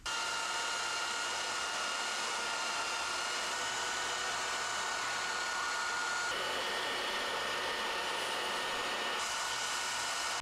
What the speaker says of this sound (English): We got a belt sander, and we're gonna sand this down, see if we can get it better shape